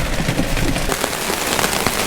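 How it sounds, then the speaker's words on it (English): Hail falls steadily during an overlanding trip in the Colorado mountains, a dense, continuous patter and rattle on surfaces with scattered sharper ticks, loud and close throughout with no voices. "Got more hail."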